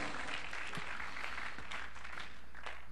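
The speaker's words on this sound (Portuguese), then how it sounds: "Quantos podem aplaudir ao Senhor?" A church congregation applauds during a Portuguese-language sermon, a soft wash of clapping heard faintly and evenly across the short stretch, somewhat distant and roomy.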